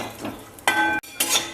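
Cashews and almonds in hot ghee in a pan, sizzling and frying with sharp bursts as the nuts are stirred or added, then a brief pause before another loud crackle.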